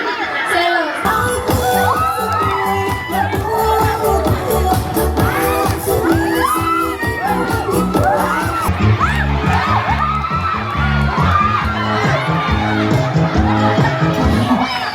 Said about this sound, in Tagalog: Kayo kasi puro kayo sigawan.